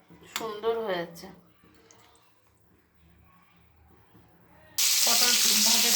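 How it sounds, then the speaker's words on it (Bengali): Pointed gourd (potol) fries in a pan in a home kitchen. A voice speaks briefly first, then a loud, dense sizzle bursts in near the end. "পটল ভাজাটা বসিয়ে দিয়েছি"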